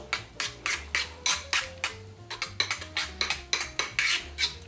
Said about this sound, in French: On va remuer tout ça, on va bien mélanger déjà.